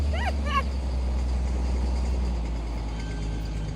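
A tractor grading a road hums as a low, steady engine drone close by, running continuously under faint background sounds.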